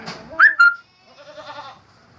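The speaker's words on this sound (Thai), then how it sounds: "ลูกแพะครับ" Young goats on a farm bleat in two sharp, high cries close by, followed by a softer, wavering bleat that trails off.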